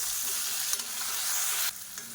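Tomato and whole small onions sautéing in oil in a pan for an oil-based brinjal curry, giving a steady, close sizzle with a brief louder burst and no talk.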